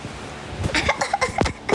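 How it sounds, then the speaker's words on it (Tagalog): A burst of several close, harsh coughs in quick succession, loud and alone. "Oh, kunwari wala kayong nakitang ubo."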